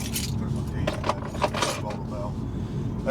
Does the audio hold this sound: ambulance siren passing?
no